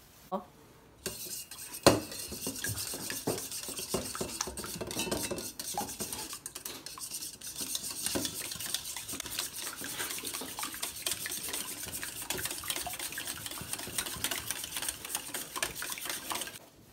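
Eggs seasoned with hondashi and water are whisked for a Japanese rolled omelette, a rapid, steady clatter of utensil against bowl running continuously and close, with no talking.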